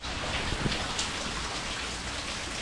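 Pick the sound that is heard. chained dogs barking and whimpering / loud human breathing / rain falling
rain falling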